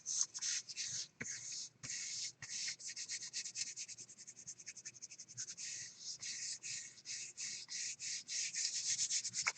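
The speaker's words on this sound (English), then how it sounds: "Rubbing the whole thing." Rubbing over a mixed media art piece: a steady, scratchy, hissing friction sound in quick repeated strokes, close and fairly quiet, continuing throughout with no talk.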